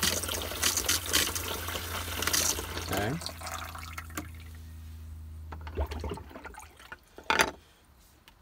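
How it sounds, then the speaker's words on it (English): An RV kitchen faucet runs water flushed with pink antifreeze during winterizing, a steady splashing stream that cuts off midway, followed by drips and small clunks, with a brief spoken word nearby. "we'll run water until we see it comes out pink"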